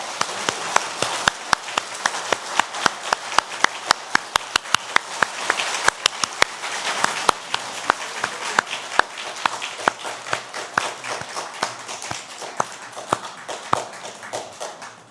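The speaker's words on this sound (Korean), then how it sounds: "우리 하나님 앞에 영광의 박수를 한번 올려봅시다" A church congregation applauds together for a long stretch, with many hands producing a dense, steady patter of claps punctuated by sharper individual slaps, sustained and fairly loud throughout.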